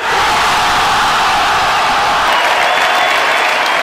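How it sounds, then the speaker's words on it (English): Crowd cheering and applauding in a table tennis virtual reality game, a loud, dense, sustained roar that stays steady throughout. "The whole Swedish crowd is with me."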